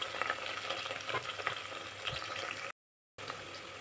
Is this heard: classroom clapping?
no